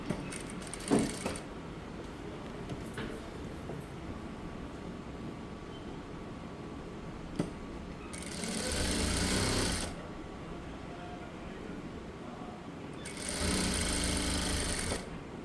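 Sewing machine stitching a lining onto a neck, two distinct bursts of steady mechanical whirring a few seconds each, separated by quieter handling noise and faint clicks.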